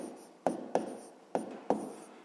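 A pen or pencil scratches numbers onto paper in a quiet room, four short strokes with soft rubbing between them, close and faint.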